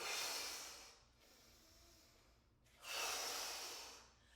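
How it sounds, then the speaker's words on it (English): Deep, forceful breathing during a prenatal core workout: a loud, close breath rushing for about a second, a quieter stretch of airflow, then another strong breath, with no talking. "Exhale deeply. Inhale deeply."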